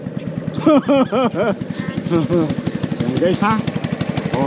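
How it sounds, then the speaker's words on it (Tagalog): A boat engine chugs steadily in rapid, even pulses while someone talks over it up close. "ang ganda ng pakinggan ng makina guys oh"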